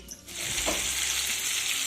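Boiled moong dal tipped into a hot, sizzling tempering in a pan for Bengali dal; a short thud is followed by a steady, loud, close frying sizzle that holds to the end, with no talking.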